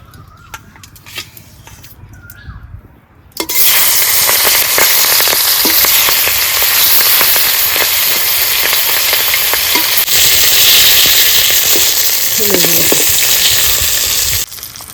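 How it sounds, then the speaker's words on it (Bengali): Fish frying in hot oil in a wok: after a quieter opening, a loud, sudden sizzle erupts and continues as a dense, steady crackle until the end. "কড়াই গরম হয়ে গেছে তেল দিয়ে দেবো তেল দিয়ে মাছগুলো ভালো করে ভেজে নেবো"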